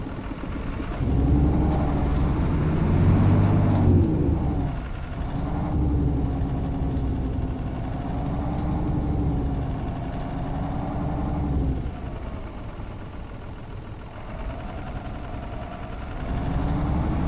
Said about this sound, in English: Let's open it up and let's start the pump.